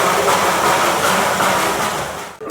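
A lone train engine without carriages passes close by in Kurseong, making a loud, steady rumbling roar with broadband hiss that cuts off abruptly at the end.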